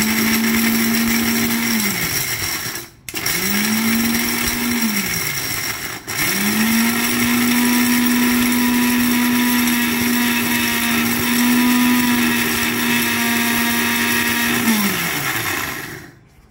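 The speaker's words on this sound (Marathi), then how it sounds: "आणि हे आता मिक्सरला बारीक करून घ्यायचं।" A small mixer grinder whirs loudly as it powders garam masala spices, running in three bursts separated by brief pauses, the last a long steady grind that winds down at the end.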